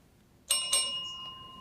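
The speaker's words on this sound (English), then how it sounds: "Bell signals the end." A quiz-show bell rings twice in quick succession in a school quiz competition, clear and bright against a quiet room, its tone ringing out and fading.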